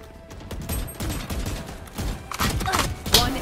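Gunfire from the Imperium skin in the mobile game Arena of Valor, with a rapid series of punchy shots and impact thuds that grow louder toward the end, alongside faint background voices.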